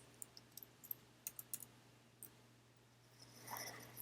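Light, quiet typing on a computer keyboard: a scattered run of sharp keystroke clicks at an uneven pace, close but faint, fading into soft rustling toward the end.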